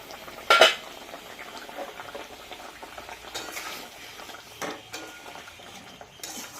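A lid is set down on a cooking pot of fish curry with a single sharp metallic clank near the start, followed by quieter clinks and faint simmering from the pot.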